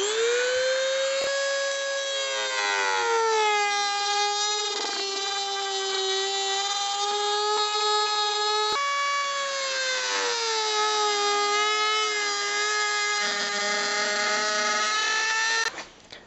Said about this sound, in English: now it's time to take my trusty Dremel tool and see if I can cut this thing up